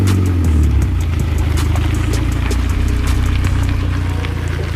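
A manual car cruises along with a steady low engine drone and road rumble heard from inside the cabin, loud and continuous with no talk.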